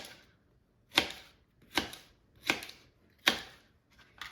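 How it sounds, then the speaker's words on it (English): A knife chops through okra stems on a cutting board, four sharp, evenly spaced cuts close by with quiet pauses between them and a softer fifth tap at the end. "So I'm going to cut off and discard the stem."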